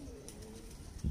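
A pigeon coos quietly nearby, a brief low murmur ending in a slightly louder note.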